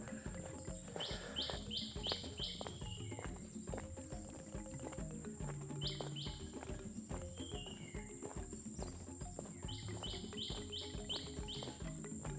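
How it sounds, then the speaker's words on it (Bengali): Birds call in the Sundarbans mangrove forest, with repeated bursts of chirping that return in short series. A steady insect-like whine and faint background noise run underneath. "পাখি ডাক শোনা যায়।"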